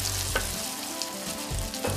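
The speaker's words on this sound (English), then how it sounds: "I can start frying off my halloumi cakes in a hot, oiled pan." Halloumi cakes frying in a hot, oiled pan give off a steady close sizzle and crackle, with a few soft scraping or stirring knocks and no voices.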